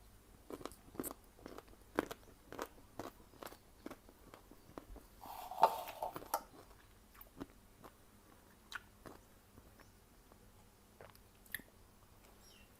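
Close, crisp bites and crunchy chewing of sour mango dipped in fermented fish chili sauce, repeated every second or so, with a brief louder rustle midway.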